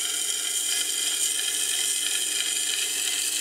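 A CBN wheel on a sharpening grinder spins and grinds with a steady, high, hissing whine at constant loudness, with no voices.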